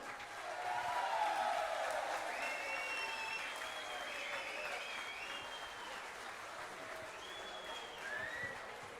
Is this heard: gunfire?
no